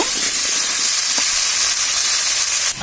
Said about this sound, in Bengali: তো আমরা আলুগুলো ভেজে নিব।